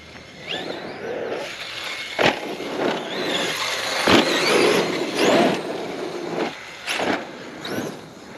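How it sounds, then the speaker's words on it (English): An Arrma Outcast EXB radio-controlled car drives around outdoors, its electric motor whining and surging in repeated bursts with sharp revving spikes, heard at moderate distance with no talk. "You just need room with this RC car. You need a lot of room with this RC."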